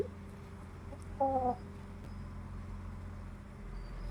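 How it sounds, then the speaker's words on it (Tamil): A short burst of clucking from a native country hen stands out against a quiet rural background hum, then fades back to ambient noise. "நாட்டுக்கோழி, சுத்தமான நாட்டுக்கோழி."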